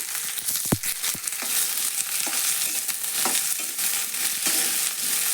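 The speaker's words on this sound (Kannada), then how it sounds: "ಸ್ವಲ್ಪ ಜಾಸ್ತಿನ ಹಾಕಿ ಹುರ್ಕೋಬೇಕ್ರಿ ಎಣ್ಣೆ" Onions fry in plenty of oil for an onion chutney, a steady close sizzle punctuated by sharp spoon scrapes and knocks as they are stirred.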